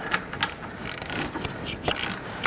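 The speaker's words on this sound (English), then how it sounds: "We're going to use a 3/4 inch ratchet." A 3/4 inch ratchet turns an adjustment on a walk-behind power trowel, making close, rapid clicking pawl ticks in an uneven series with mechanical rattling and no voices.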